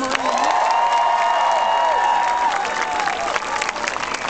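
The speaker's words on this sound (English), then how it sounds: "Please give a big round of applause to Michael Nutter" Large crowd at a West Philadelphia rally applauding and cheering for Mayor Michael Nutter, loud sustained clapping mixed with shouts and whoops, rising high voices threading through the roar.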